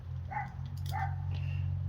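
A small Chihuahua barks twice in short, sharp yaps, then once more faintly, over a steady low hum.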